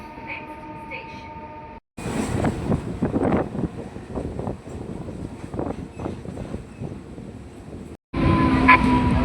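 Howrah–Amta local train arriving at a station: a loud, steady rumble of wheels and carriages with rattling bursts, cut by brief silences, and wind buffeting the microphone.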